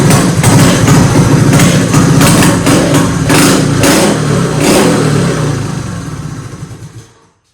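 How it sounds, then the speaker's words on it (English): A Honda Z50 K2 minibike fitted with an ATC 110 engine and high-low gearbox revs loudly and close by in repeated throttle blips, a steady buzzing drone that holds for most of the clip before cutting off. "This is a Z50 K2 with a ATC 110 engine in it with high-low."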